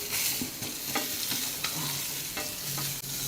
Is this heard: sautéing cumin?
yes